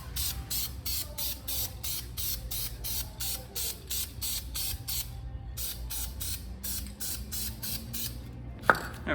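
Aerosol spray paint on brake brackets for a car brake job: rapid repeated short hissing bursts in a steady rhythm, close and fairly loud, with a brief pause midway.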